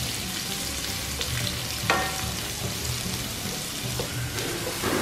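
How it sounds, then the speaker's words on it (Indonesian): Onion sautéing in a pan, a steady dense sizzle like light rain with a few faint stirring taps, moderately loud and continuous, no speech. "Kita tumis bawang bombaynya sampai dia tuh agak layu."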